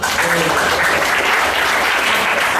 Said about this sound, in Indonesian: Boleh dong tepuk tangannya dong.